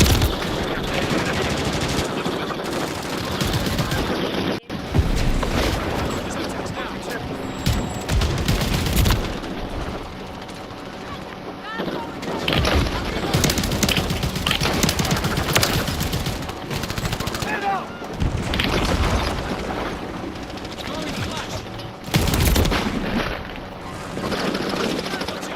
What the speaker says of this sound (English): Using a fire shotgun.